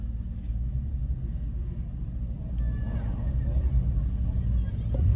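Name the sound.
car engine rumbling while driving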